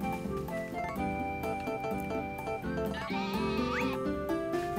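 A farm goat bleats in Harvest Moon: A Wonderful Life, its cries rising clearly over a steady, fairly loud bed of cheerful in-game music with no talking.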